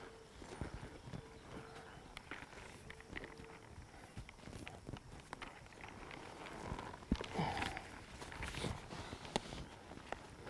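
A young colt walking on firm ground, hooves clip-clopping in an uneven steady rhythm, fairly quiet and close, with faint background sounds and little talk.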